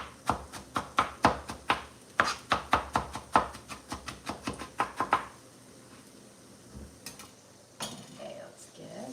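Peppers are chopped coarsely with a knife on a board: a quick run of around twenty sharp, close thuds in an uneven rhythm, then the chopping stops and leaves only faint handling sounds.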